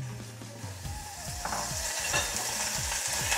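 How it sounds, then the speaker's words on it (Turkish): Butter and hot tomato paste sizzle in a pan while being stirred, a steady close crackling hiss with scraping strokes of a utensil repeating throughout, no voices. "görüyorsunuz cızıl cızıl cızıl sesler çıkıyor"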